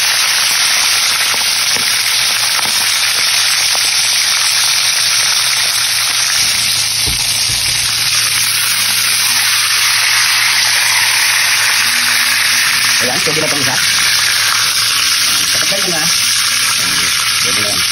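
Marinated spicy chicken fries in hot oil with a loud, continuous crackling sizzle, joined partway through by a few light scrapes and clinks of stirring.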